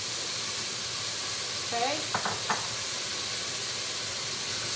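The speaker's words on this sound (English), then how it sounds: "And we're going to saute all this." Celery, onion and garlic sautéing in a pan give a steady, close sizzling hiss throughout, with a short burst of clatter partway through and a brief spoken word over it.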